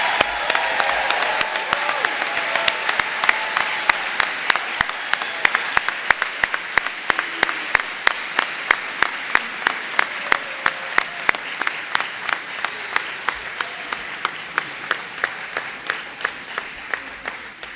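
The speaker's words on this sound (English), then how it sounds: "Could we have one final round of applause for the 2023 class?" An audience applauds a graduating class at a leaving ceremony, steady sustained clapping filling the hall and gradually thinning toward the end, with no voices over it.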